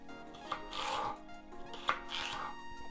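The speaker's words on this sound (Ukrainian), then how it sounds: "Нарізаємо наш" A knife chops celery on a cutting board during preparation of pasta Bolognese, giving a couple of close, crisp cuts spaced a little over a second apart.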